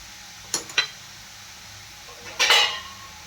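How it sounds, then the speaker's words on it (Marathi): A lid set onto a pan of radish bhaji, two quick metallic clinks followed by a louder rattling clatter as the lid settles, over a faint background hum, no talk. "आता यावर मी झाकण ठेवणार आहे."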